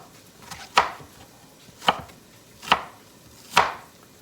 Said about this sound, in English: And then I just chop them this way.